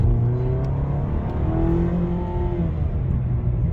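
A Chrysler 200 sedan with a 185-horsepower engine accelerating, its engine droning steadily with rising tones from inside the car, loud and continuous.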